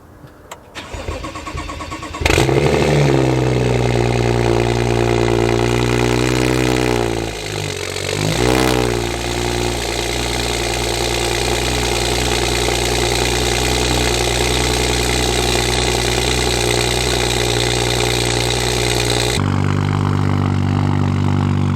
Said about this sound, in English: I'm gonna get y'all a cold start